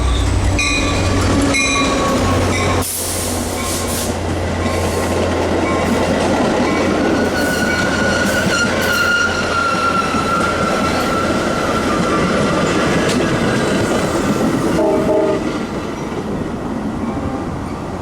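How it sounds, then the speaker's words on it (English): A Metra commuter train on the Milwaukee West line rumbles into the station with a loud continuous roar, rattling wheels and brief metallic squeals as it rolls through. "Milwaukee West train number 2717 to Elgin is now arriving."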